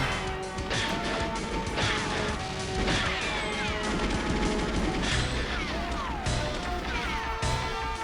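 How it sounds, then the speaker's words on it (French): Chaotic GoldenEye video game combat, with a grenade blast among dense crashes and gunfire. The sound is loud and continuous and never fades. "C'est grenade, c'est foutu grenade."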